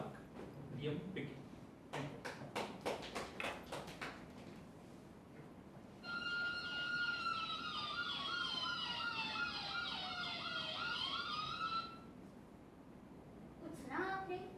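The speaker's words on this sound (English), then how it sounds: "This is the sound of an ambulance siren." An ambulance siren wails steadily for several seconds, its pitch sweeping up and down in repeated cycles and fairly loud, with clattering and other noise before and after it.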